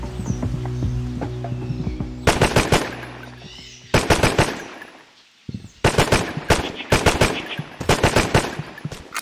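Machine gun fire in the PC shooter Terrorist Takedown: War in Colombia comes in loud, close, rapid bursts separated by short pauses. Before the first burst, a mechanical hum sounds, and nobody speaks.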